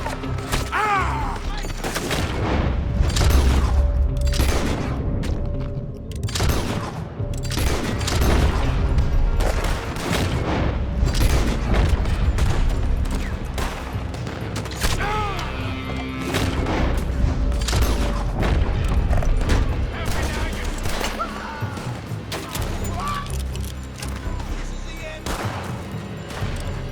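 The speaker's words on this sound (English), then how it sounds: "They're shooting!" Red Dead Redemption 2 shootout with a dense run of gunshots and booming thuds, loud and sustained across nearly half a minute, while voices talk and shout over the firing.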